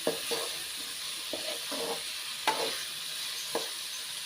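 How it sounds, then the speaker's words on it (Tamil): Ingredients for millet pongal sauté in a pan with a soft, steady sizzle, broken by a few sharp clicks and scrapes of a spoon stirring, close and fairly quiet with no talk. "கொஞ்சம் பச்சை வாசம் போகிற அளவுக்கு வதங்கட்டும்."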